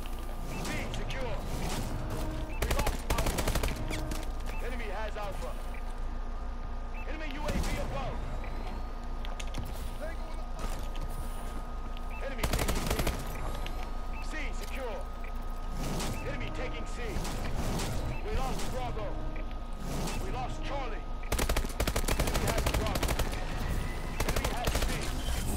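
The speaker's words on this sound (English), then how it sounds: "One shot burst with the Boar Strike." Boar Strike gunfire in Call of Duty: Advanced Warfare, bursts of rapid shots repeating through a busy, dense game mix with mechanical clatter, while a player talks over it.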